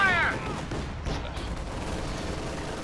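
Gunfire in Company of Heroes 2: a low, continuous rumble of distant shots and battle noise after a brief radio-like voice at the start, fairly quiet throughout.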